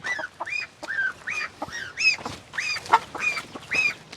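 Swans (hamsa) of a rare breed in a farm garden give a run of loud, nasal honking calls, about a dozen in quick irregular succession, close by with no talk.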